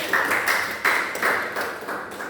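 Classroom applause: students clap together in a few short, dense bursts, close and fairly loud, each swell quickly dying back.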